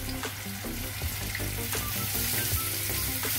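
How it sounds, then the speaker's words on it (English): Salmon searing in hot olive oil in a pot, a dense continuous sizzle with small pops and crackles, close and steady throughout with no voices. "searing off my salmon, you know, not fry them, but just to seal it up"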